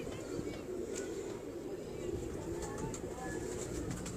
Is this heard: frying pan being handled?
no